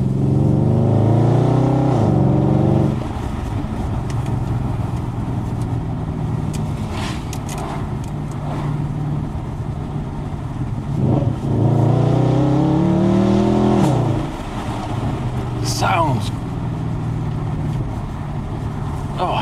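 An Audi S5 revs up through the gears, its engine note climbing in repeated sweeps, dropping at each upshift, with brief sharp exhaust pops between pulls, loud and close.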